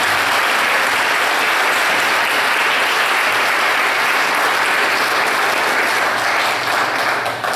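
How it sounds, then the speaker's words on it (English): Sustained audience applause at a bell choir benefit concert honoring a school's memory, loud and dense throughout without pause, tapering only slightly at the end. "Please give a round of applause in Christine's name."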